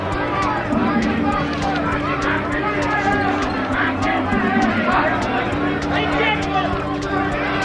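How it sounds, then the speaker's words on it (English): Boxing arena crowd at the 1987 Mike Tyson vs. Tony Tucker fight booing Tucker's tactics: a steady, dense roar of many voices that carries unbroken through the whole stretch. "Crowd booing the tactics of Tony Tucker"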